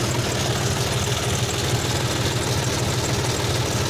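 The engine of a John Deere D series tractor drones steadily and loudly nearby, a constant low rumble with no break.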